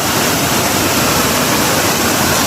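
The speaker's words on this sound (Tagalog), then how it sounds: "sobrang lakas po ng pressure ng water" Strong, steady roar of a muddy, debris-laden river rushing under high pressure, filling the whole clip, loud and close, with no pauses or voices.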